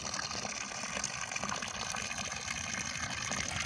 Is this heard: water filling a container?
yes